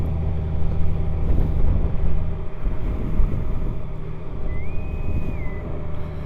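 Honda Goldwing motorcycle on the road, a steady low engine drone mixed with continuous wind rush, fairly loud and constant throughout with no talking.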